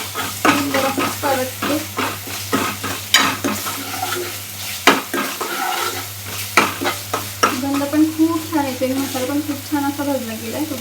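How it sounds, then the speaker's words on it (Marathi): Masala for chicken sukka roasts in a pan, sizzling loudly under repeated rhythmic scrapes and knocks of a spoon stirring, while a voice talks over the later part. "छान मसाला भाजला गेला."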